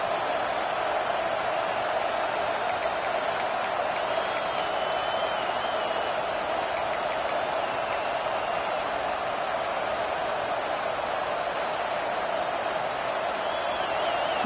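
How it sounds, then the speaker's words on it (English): A football stadium crowd roars steadily throughout a Texas vs Ohio State game, with a dense wash of cheering and whistles from a large audience and scattered shouts rising above it. "Listen to the crowd energy here in the early going."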